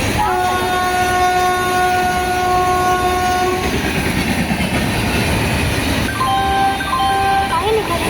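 Karthigai Deepam Circular Express running Chennai–Tiruvannamalai, loud at the station with a sustained multi-tone train horn blast, a second horn burst later, and rumbling carriages throughout.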